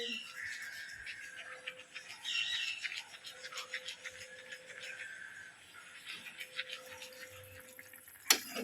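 Toothbrush bristles scrub back and forth in steady rapid strokes, close and fairly quiet, with a brief louder knock near the end.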